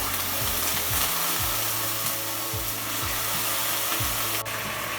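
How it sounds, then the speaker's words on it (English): Vinegar poured into a hot pan for mango chutney, a loud steady sizzle with a stirring or scraping sound repeating close by. "Now we're going to add a little bit of vinegar to it."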